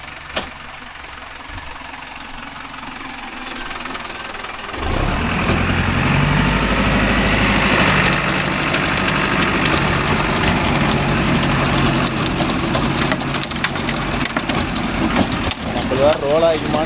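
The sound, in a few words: Mahindra Arjun Novo 605 tractor engine running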